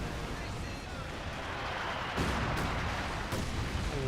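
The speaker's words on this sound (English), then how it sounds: "great incendiary light barrage" An incendiary light artillery barrage in Company of Heroes 2 rumbles under a commentator's voice, with a steady wash of distant blasts and a few sharper bursts standing out.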